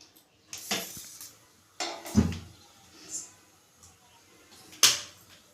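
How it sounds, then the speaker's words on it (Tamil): A kadai is set down on a kitchen stove while preparing Chettinad paal paniyaram, making several distinct metallic clanks and scrapes spaced a second or so apart, close and fairly clear, with no talk. "வாங்க, அடுப்பில் கடாயை வச்சுக்கலாம்."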